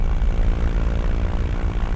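Aircraft engine in a flight simulator game, spooling up at low power on the ground with the parking brake released, a steady loud droning hum with a propeller-like throb that holds even and continuous.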